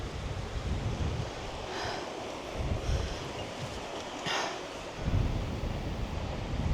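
Two mountain streams rush together beneath a wooden hiking bridge in Norway, making a steady broad roar of water with gusty wind buffeting the microphone throughout.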